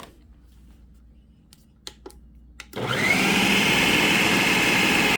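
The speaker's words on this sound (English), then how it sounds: "we're just going to blend this just for 1 cycle" A food processor switches on partway through and whirs loudly and steadily as it blends a chocolate zucchini batter, after a few quiet clicks and taps while it is set up.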